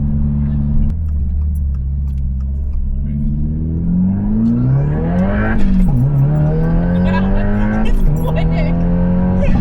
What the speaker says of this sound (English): When the turbo finally spools in first gear and the front end picks up like that, that's crazy.